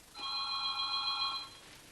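A telephone bell rings in one sustained trill of about a second and a half, close and clear, in a quiet room with no voices.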